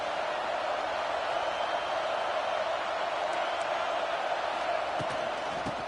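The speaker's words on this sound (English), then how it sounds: "this crowd is turning it up a notch" A steady, dense stadium crowd roar in the College Football 26 video game, a constant wash of noise under a commentator talking.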